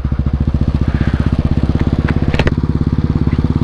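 A motorcycle engine on a ride throbs close and loud with rapid, regular pulsing that stays even throughout, with a brief clattering rattle near the middle.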